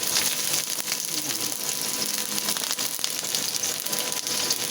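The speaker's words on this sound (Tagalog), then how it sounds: "Igisa na po natin naman. Igisa na po tayo." Garlic, onion and ginger sautéing in a pan: continuous crackling sizzle with dense spattering pops, steady and close throughout.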